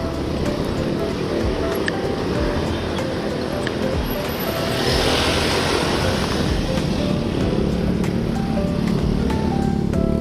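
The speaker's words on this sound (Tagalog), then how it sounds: "Ito na yata yung waterfall." A waterfall gives off a dense, continuous roaring wash of water, loud and steady throughout, with no clear talk.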